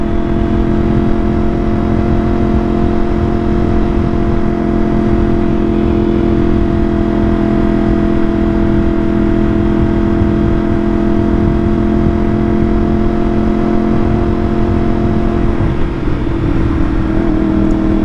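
A 2023 Yamaha R1M motorcycle, running with a reflashed ECU and fuel remap in mode B, drones loudly and continuously while held in third gear, with a steady engine roar that barely changes pitch.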